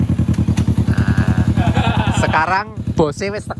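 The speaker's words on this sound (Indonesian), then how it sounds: "Ini manasin motor doang ini." A motorcycle engine idles while being warmed up, a steady rapid close-up putter running throughout as people talk over it.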